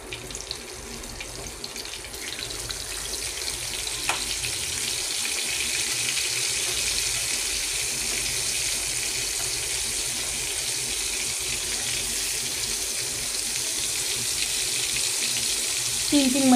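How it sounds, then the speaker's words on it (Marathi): Flour-dusted fish slipped slowly into hot oil, a steady broadband frying hiss that runs unbroken and grows slightly louder toward the end, with a couple of faint clicks. "आता मी याच्यात तेलामध्ये ठेवते। हळूच मच्छी टाकायची"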